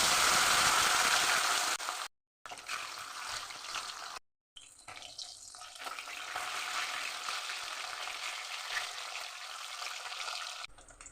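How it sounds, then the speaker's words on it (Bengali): Parshe fish dropped into hot mustard oil in a wok sizzle loudly at first, then settle into a steady, softer crackling frying hiss with a couple of brief silent gaps. "তেল গরম হয়ে গেছে, মাছ ছেড়ে দিলাম।"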